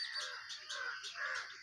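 A bulbul calls near its nest with a few quick, harsh, raspy notes in succession, faint and close, with no voices.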